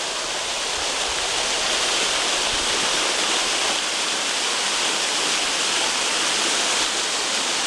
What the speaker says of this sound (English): The water makes its way down to Mosta now.